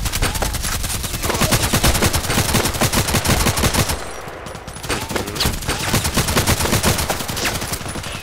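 Rapid, dense automatic gunfire from the RFB rifle in the shooter game Contract Wars, loud and continuous with a brief dip midway, layered over game ambience and no speech.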